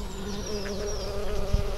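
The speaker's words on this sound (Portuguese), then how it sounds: "É uma abelha muito bonita, bem trabalhadora mesmo." Mandaçaia stingless bees buzz steadily at close range, several overlapping drones with wingbeat tones shifting as individuals fly past the hive, with no talking.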